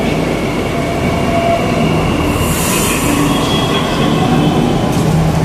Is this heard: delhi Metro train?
yes